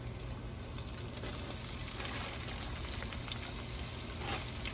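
Shrimp frying in hot oil, a low continuous crackling sizzle with scattered soft pops and spatters, fairly faint and steady throughout.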